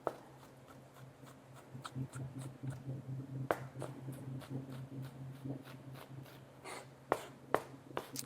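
A chef's knife dicing an onion on a cutting board, a steady series of sharp close taps and chops over a low kitchen hum, spaced irregularly as the blade works across the onion.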